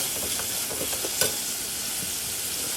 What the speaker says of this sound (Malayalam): അടുപ്പിൽ പാത്രത്തിൽ വെച്ചിട്ട് വാട്ടിയെടുക്കുക